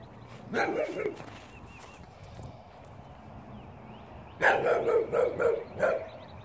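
A dog barks several times in a quick burst outdoors, fairly close and loud, after a quieter stretch of open-air background noise.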